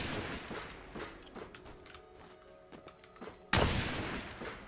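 Sniper gunfire in the Roblox survival game Decaying Winter: one loud, sharp shot bursts out near the end after a stretch of quieter, scattered game noises.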